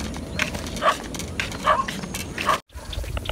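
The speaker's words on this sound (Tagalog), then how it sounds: "Sinasalubong na tayo ng aso mga kaibigan." Dogs barking at arriving visitors on a rural path, several sharp barks spaced through the moment at moderate distance over footsteps and outdoor noise.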